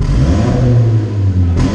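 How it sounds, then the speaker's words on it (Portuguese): A car engine revs hard through a stainless steel exhaust diffuser with a sporty tone, producing a loud, close, deep rumbling roar held for under two seconds, with no voices. "E agora, barulho esportivo."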